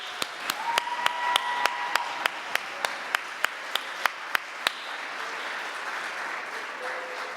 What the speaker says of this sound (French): J'aimerais avoir une bonne main d'applaudissements pour l'équipe